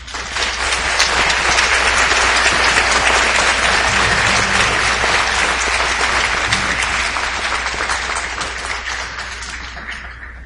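A large graduation ceremony crowd at Sault College applauds the class of 2019, with dense, sustained clapping from many hands filling the hall for about ten seconds before slowly fading.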